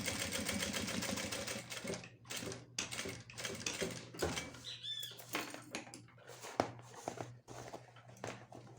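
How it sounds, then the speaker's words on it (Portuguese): Sewing machine stitching across the corner of a fabric toiletry bag, a steady close mechanical whir broken into short bursts with brief pauses, and no talk. "Passa uma costurinha bem aqui nesse cantinho."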